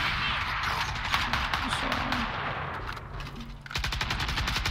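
Gunfire in Valorant, a fast stream of rapid shots, loud and close, running through most of the clip and picking up again in a crisp burst near the end, with players talking over it.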